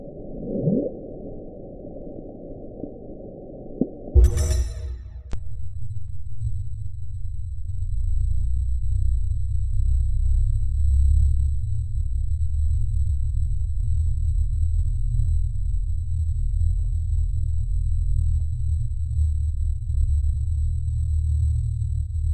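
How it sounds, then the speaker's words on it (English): The Bloop, an ultra-low-frequency underwater sound recorded by hydrophone, followed by a modern hydrophone recording: a brief low rumbling burst, a sharp transition, then a long, steady deep rumble with a faint high tone, with no talk. "I'll play the bloop and then the more modern hydrophone back to back right now"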